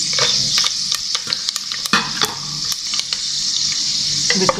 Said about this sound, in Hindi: इसको थोड़ा सा फ्राई कर लेते हैं।